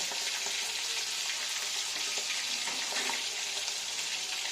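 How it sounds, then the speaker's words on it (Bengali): Pomfret fish fry in hot oil in a pan, a dense, steady sizzle that stays close and even throughout, with faint stirring and no voices. "খুব কড়া করে ভাজবো না, আবার খুব কমও ভাজবো না, একটু লাল লাল করে ভেজে নেব।"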